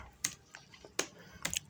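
Short bursts of keystrokes on a computer keyboard as a web address is typed, a few quick clicks spaced irregularly, close and fairly quiet.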